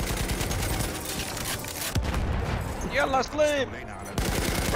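Gunfire from a gun in the Battlefield 1 video game, bursts of rapid shots cutting in and out over a dense battlefield din while a player talks briefly.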